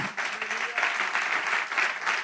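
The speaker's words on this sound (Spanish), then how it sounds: "Demos un aplauso al Señor." A church congregation applauds in a steady wash of clapping that carries on without a break, fairly close and moderately loud, with a few faint voices mixed in.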